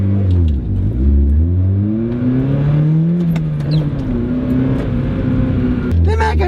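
A short-wheelbase sports car with its check engine light on pulls away hard, its engine note climbing and falling through the gears, loud and close, with a voice talking over it.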